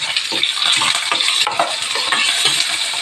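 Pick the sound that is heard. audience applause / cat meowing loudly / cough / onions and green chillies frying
onions and green chillies frying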